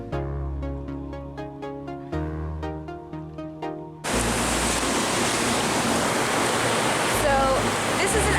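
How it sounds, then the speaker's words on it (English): Fast-flowing creek water rushes loudly and steadily like a river, a dense continuous wash. It follows a few seconds of tonal music. "this isn't actually a river, it's just a creek. But it's flowing like a river"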